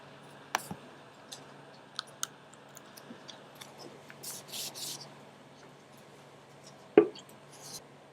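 Typing on a computer keyboard comes through as scattered soft key clicks and taps, irregular and quiet, with a louder knock near the end.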